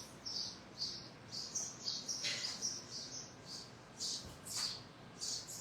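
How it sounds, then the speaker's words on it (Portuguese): A small bird gives high, short chirps in quick clusters, fairly faint and slightly distant, over a soft background hiss with no speech. "Até o passarinho disse amém agora."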